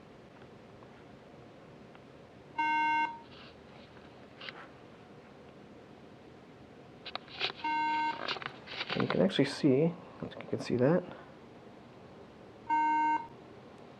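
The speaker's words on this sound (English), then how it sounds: "it's lighting up there and it's beeping. That means there's a RAM issue with the MacBook Air." A 2009 MacBook Air with a RAM fault emits three evenly spaced electronic tones at power-up, clear and steady against room hiss, while someone talks between them.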